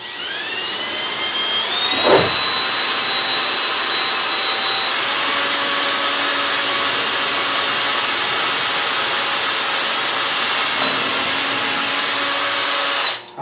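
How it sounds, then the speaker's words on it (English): A power drill fitted with an X-Imer bit bores through a piece of scrap wood while a suction unit runs, giving a loud, steady high whine that holds throughout with a brief dip early on, no talking. "I've got a drill here with one of my X-Imer drill bits in it, and this piece of scrap wood."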